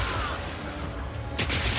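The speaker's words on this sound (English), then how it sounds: "The freeze explosions from frag rounds now chain to nearby enemies" Frag round freeze explosions in Path of Exile 2, a sustained rumble of blasts ending in a sharp, loud burst near the end.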